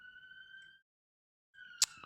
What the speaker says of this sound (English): that ambulance didn't turn off its siren directly outside my window